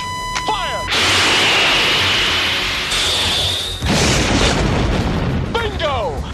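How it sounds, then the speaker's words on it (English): Missile launch effect from a fighter jet in a film dogfight: a loud sudden whoosh and roaring burst following a brief radio voice, with sustained jet rumble and a rising tone, then more clipped radio chatter near the end. "I got radar lock. Look, Tone, I'm taking a shot. Fire!"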